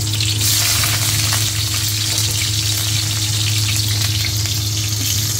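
Onions fry loudly in a pan for ginataang suso, a close, dense and continuous sizzle with faint stirring and no voices.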